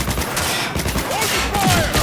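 Dense gunfire fills a Cyberpunk 2077 firefight, a continuous rattling fusillade of shots over a loud, busy game soundscape with whooshing tones.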